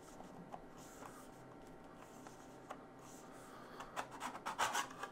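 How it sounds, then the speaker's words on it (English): Metal case of an IFR T-1200SRA surveillance receiver being pulled apart after its rear screws are removed, quiet rubbing and scraping that build into a cluster of close clicks and clatters near the end. "Now I've just removed these two screws here from the back, and it should come apart."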